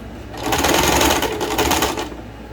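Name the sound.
sewing machine stitching a shirt sleeve cuff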